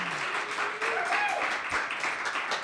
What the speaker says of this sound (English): Ladies and gentlemen, a big round of applause for Stories from the Beauty Parlor.